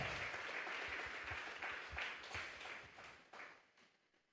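A church congregation at a Sunday afternoon service applauds in a dense wash of claps that stays steady, then thins and fades toward the end.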